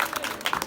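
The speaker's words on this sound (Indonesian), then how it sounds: "Sekali lagi tepuk tangan bagi kita semua." Brief patter of applause from a classroom group during a microteaching lesson, steady and moderately close, filling the whole short moment without any voices.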